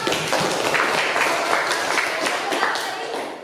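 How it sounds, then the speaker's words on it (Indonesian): A class clapping together indoors, a dense, continuous wash of applause from a group, steady and fairly loud for a few seconds before tapering slightly, with voices mixed in. "Beri tepuk tangan dong."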